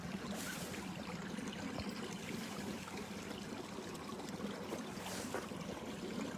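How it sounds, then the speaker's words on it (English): Water spills steadily over the edge of an infinity pool beside a chapel set on the water, a continuous broadband wash and trickle with no pauses and no voices. "the water is running over this infinity pool"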